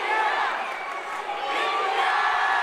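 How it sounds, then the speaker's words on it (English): Stadium crowd at an India versus Nepal under-19 football match, a loud continuous roar of many voices chanting and cheering, sustained throughout. "the crowd, they go wild here. That India, India chant."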